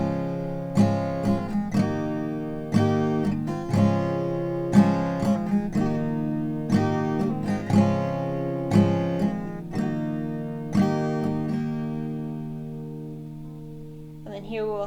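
Acoustic guitar strumming the opening lines of the chorus of a song, a steady pattern of ringing chords with a rhythmic down-up feel, played close and alone, the last chord left to decay.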